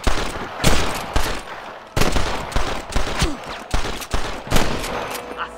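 Repeated sniper and rifle gunfire in the Red Dead Redemption video game, sharp loud shots and volleys going off at irregular intervals for several seconds, close and echoing, with a few short shouts mixed in.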